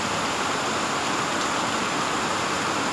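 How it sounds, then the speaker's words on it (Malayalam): Heavy monsoon rain on a farm, a dense unbroken hiss of downpour close and loud for a few seconds, with no voices. "നല്ലൊരു മഴ ദിവസമാണ് ഇന്ന്."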